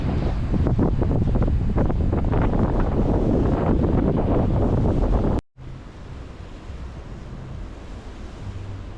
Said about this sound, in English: As you can hear on this side of the island, the wind is a lot more intense.